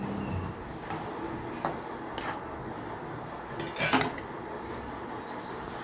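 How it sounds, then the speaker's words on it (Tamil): Mutton cutlet mixture being lightly stirred in a pan after salt goes in, a scattering of soft metallic clicks and scrapes of a spoon against the pan over a low sizzling background. "ஆட் பண்ணிவிட்டு லைட்டாக கிண்டி விட்டுருங்க"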